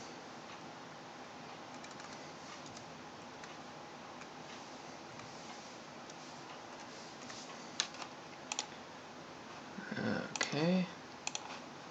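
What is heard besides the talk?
typing a server IP on a PowerPC Mac keyboard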